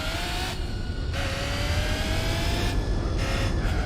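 Car engine in Gran Turismo 4 at Laguna Seca, a continuous revving roar with rising and falling whine as the engine climbs through the revs, loud and close throughout.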